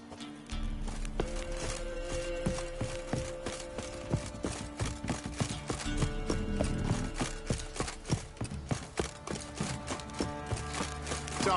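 Horse hooves clip-clop in The Witcher 3, a steady stream of close, regular hoof beats on a hard surface layered over continuous game music and ambience, with no talk.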